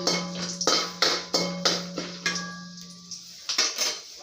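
Almonds are dry-roasted in a metal pan for a sweet rava laddu. A spatula scrapes and clinks against the pan in a steady, close rhythm of about a dozen strokes, with no talking.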